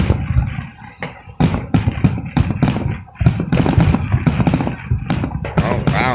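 Fireworks show in Fall River in 2017: a rapid run of close, loud bangs and crackling bursts that overlap almost without pause, like a finale barrage.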